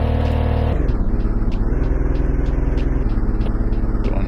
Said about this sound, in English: we heard the engine sounds